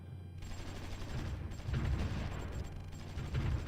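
Distant artillery and gunfire from a Supreme Ruler Ultimate strategy battle, a dense low rumble of overlapping shots and booms that swells and continues steadily throughout, with no voices.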